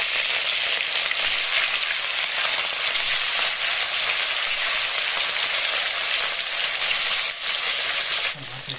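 Katla fish pieces frying in hot mustard oil in a wok, a loud, continuous crackling sizzle heard close up and alone, easing slightly at the very end.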